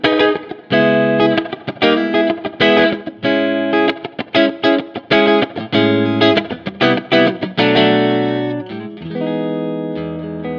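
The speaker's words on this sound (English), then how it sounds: "that's a very subtle reverb, but it just adds ambiance" Music processed through an IK Multimedia X-Space reverb plugin set to a subtle room ambience, bright rhythmic chords and notes with short, light tails that ring out at the end.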